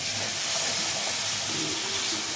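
Spice masala sizzling in hot oil while cooking matar ghugni, a steady broadband hiss and crackle held throughout, close and fairly loud with no talking.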